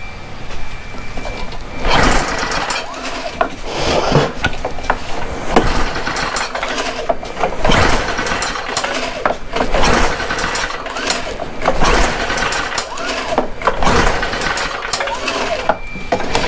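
A Stihl BR800 backpack blower engine runs steadily after a carburetor adjustment, loud and close, with a harsh broadband roar that surges roughly every two seconds.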